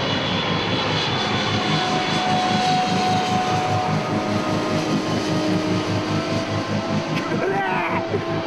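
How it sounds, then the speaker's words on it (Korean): An airplane passes overhead in a city, a loud, steady engine drone filling the scene, with people's voices and shouts mixed under it. "비행기 온다!"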